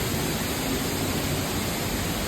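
A waterfall at night roars as a loud, steady, broadband rush of falling water, unbroken and close, with no voices.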